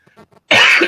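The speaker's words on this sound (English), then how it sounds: "if I cough, excuse me for that." A single sharp, loud cough bursts out after a moment of quiet with faint murmurs, and the harsh burst trails off within half a second.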